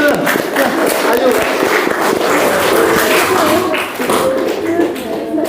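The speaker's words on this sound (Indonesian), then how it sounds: "Tepuk tangan." An audience at a character-education session claps after a singer performs. The applause is sustained and fairly loud, with some voices mixed into it.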